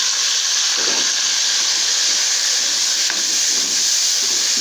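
Tomatoes and whole garam masala spices sizzle in a hot pan for moong masoor dal, a steady loud hiss running through the whole stretch with no talk.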